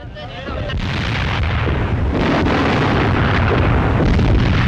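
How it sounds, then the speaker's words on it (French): Fire and explosions on a WWII battlefield near Orel as a Soviet tank burns and blows up, heard as a loud, continuous roar of blasts and rumbling with no clear separate bangs. "Char soviétique en flammes. Celui-là explose."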